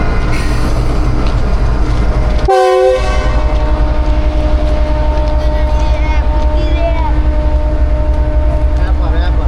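A Pak Business Express train, Karachi to Lahore, stands at the outer signal amid steady rumbling rail noise; one loud, close horn blast sounds briefly, with people talking throughout.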